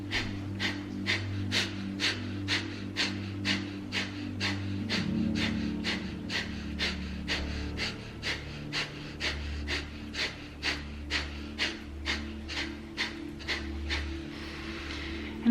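Rhythmic pumping breaths of a tantric breath meditation, a steady run of about two dozen sharp, evenly spaced breaths that sit close and loud over a low droning background.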